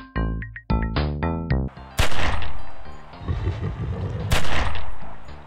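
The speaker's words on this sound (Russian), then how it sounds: "Благо, я додумался выстрелить по замку" In the video game Dracula 2, a revolver is fired at a lock: several sharp, loud shots in a quick opening burst, then a heavier crashing blast and a second one near the end.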